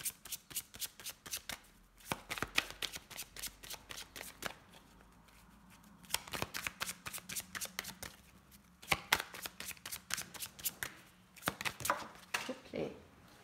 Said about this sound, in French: Je vais juste essayer de recouvrir la carte surprise.